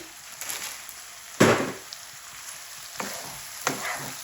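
Potatoes tipped into a hot pan of oil while bitter gourd is being cooked, giving a sharp burst of sizzling followed by steady frying hiss and a few scraping stirs, fairly close, with no talking.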